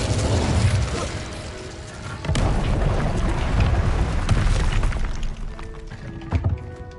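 An Incendio fire spell cast in the Hogwarts Legacy video game, a loud booming burst with crackling, rumbling fire that swells and lingers before fading, with a few sharp pops near the end.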